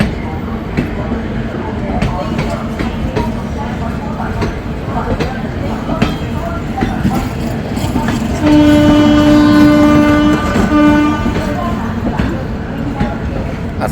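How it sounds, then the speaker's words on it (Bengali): A train pulls out of platform 8 at an Indian railway station, its rumble steady throughout, and a long, loud horn blast sounds near the middle with a short second toot after; voices murmur in the background. "8 নম্বর প্ল্যাটফর্ম থেকে ট্রেন ছাড়লো।"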